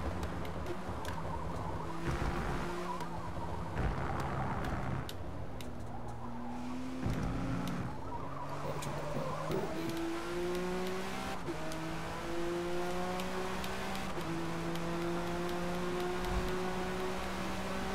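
A race car in a racing video game pulls into the pit lane, its engine whine gliding and stepping through pitch changes as it slows and shifts, steady and moderately loud with no voices.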